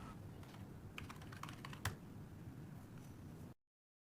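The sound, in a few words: typing login password on a computer keyboard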